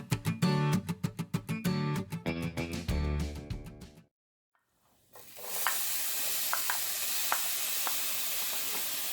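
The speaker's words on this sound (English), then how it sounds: "And then I'm going to cook the meat." Ground meat for Salisbury steak sloppy joes hits a hot pan and sizzles in a loud, even hiss with scattered pops. Rhythmic plucked music plays first, then a brief silence.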